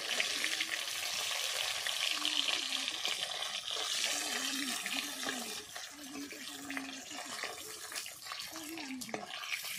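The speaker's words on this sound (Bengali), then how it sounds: "মাছগুলো ভাজা হয়ে গেছে" Fish fry in hot oil with a continuous loud sizzle and crackle, while a low voice hums or speaks faintly underneath at intervals.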